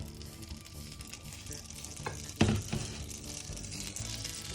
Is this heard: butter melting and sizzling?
yes